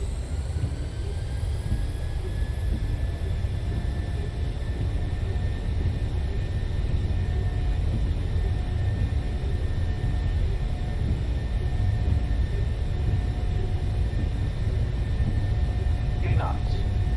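Boeing 737 engines in Microsoft Flight Simulator 2020 run up toward takeoff thrust as a steady, loud broadband roar with faint tonal whine, sustained and even throughout, with no talk.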